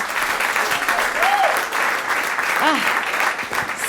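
Applause from a comedy-show audience responding to a call for the married people in the room, a steady dense clatter of clapping hands filling the space, with a few voices calling out over it.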